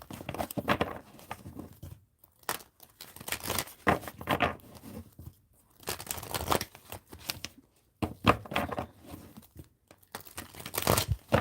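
Tarot cards being shuffled by hand in repeated bursts of riffling and rustling, each lasting a second or two with short pauses between, close and fairly quiet.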